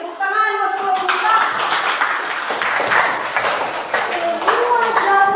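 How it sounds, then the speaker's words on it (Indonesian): A classroom of students claps for a group of classmates, brisk overlapping hand claps close by, with children's voices and talk mixed in throughout. "Oke, tepuk tangan buat kelompok."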